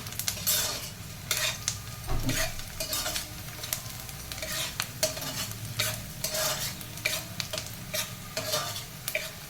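Onions fry and are stirred in a pan for a traditional pappulu patoli, with a steady close sizzle broken by repeated scraping strokes of a spoon against the metal, all without voices.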